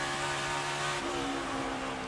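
A Toyota Camry NASCAR Cup race car at Dover, its engine throttle holding a steady, loud drone with a pitch shift midway, heard continuously without talk.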